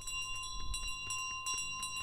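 A bell rings in Untitled Goose Game with a bright sustained metallic tone and high shimmering partials that linger, clear and moderately loud, with soft thumps underneath.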